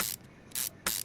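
A ratchet wrench clicks in Car Mechanic Simulator 2021 while working on a truck or SUV, with two or three quick, crisp ratcheting bursts close up and short quiet gaps between them.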